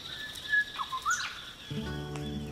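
Palm cockatoos in a northern tropical rainforest give a few short whistling and chirping calls, rising and falling, followed by a steady tonal drone, fairly near and clear.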